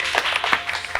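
Light clapping for a competition winner in a studio, a scattered patter of a few hands with uneven, quick claps up close.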